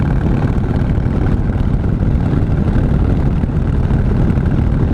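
Steady, loud low rumble of a 2015 Harley-Davidson Breakout motorcycle engine running continuously, close up and even in level throughout, with no talking.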